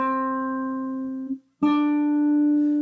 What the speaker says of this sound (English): I'm going to get what's called a major second.